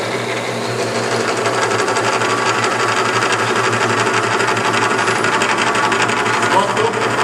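An Alfa X sewing machine runs at a steady pace, giving a loud, close, continuous mechanical whir with no pauses.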